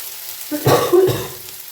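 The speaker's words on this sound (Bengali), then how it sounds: "ভালো করে নেড়ে দিতে হবে দিয়ে দিচ্ছি অল্প পরিমাণে ঘি দিয়ে দেবো একটু বিরিয়ানি মশলা" Ghee and biryani masala being fried and stirred in a pan for rice: a short, close sizzle that swells with a couple of stirring scrapes, then fades within about a second.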